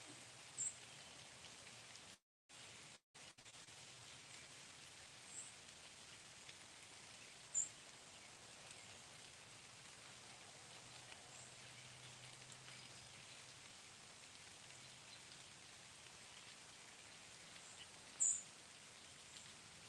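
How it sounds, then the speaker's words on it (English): Steady, soft patter of rain falling continuously at the East Cavalry Battlefield, Gettysburg, with a few faint, brief bird chirps in the distance and no talking. "Besides the birds and the rain."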